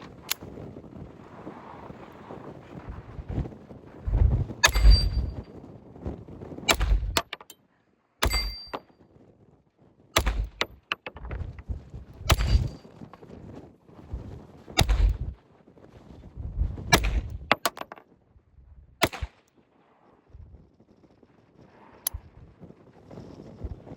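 A Colt M1903 pocket hammerless pistol in .32 ACP fires about a dozen sharp shots at irregular intervals outdoors, each crack loud and close against light wind.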